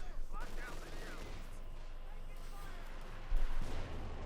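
Gunfire and artillery in the Company of Heroes 2 real-time strategy game form a dense, steady battle rumble of shots and explosions, with a louder burst near the end and a commentator's voice talking over it.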